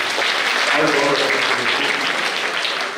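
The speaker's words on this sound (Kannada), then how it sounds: "ಅವರಿಗೂ ಒಂದು ಚಪ್ಪಾಳೆ ತಟ್ಟು ಮೂಲಕವಾಗಿ" An audience at a religious discourse gathering claps together in a dense, sustained round of applause, moderately loud and fading slightly at the end, with a voice speaking over it.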